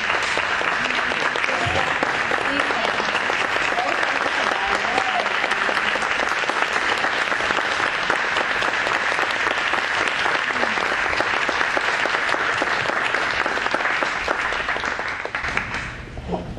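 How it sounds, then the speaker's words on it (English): Sustained applause from an audience honoring documentary film participants at a Mary Kay Inspiring Stories event, dense steady clapping filling the whole stretch and easing slightly at the very end. "the people that were on the film stand up so we can give them a round of applause"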